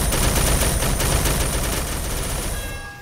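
In the Roblox game Blade Ball, an explosion effect bursts loud and dense with rapid crackling, rumbling blasts that hold steady, then fade out at the end.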